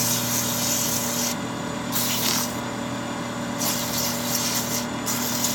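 Wood lathe spinning an aspen bowl at 2200 RPM gives a steady, even hum with a hiss of tool rubbing on wood that comes and goes, close and continuous.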